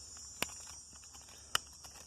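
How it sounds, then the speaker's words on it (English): Cicadas at night outdoors give a steady high, thin buzzing drone throughout, with two sharp close clicks breaking in, and no talk. "hopefully you can hear all the lovely cicadas"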